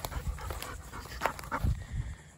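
A hunting dog pants after retrieving a shot dove among pepper trees during a dove-season hunt in Florida. Its breathing comes close and quick in an uneven rhythm, with small whimpers mixed in and no talk.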